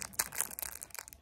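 A small plastic bag holding a tiny necklace crinkles and crunches as it is opened, a quick run of close, irregular rustles and crackles with no talking.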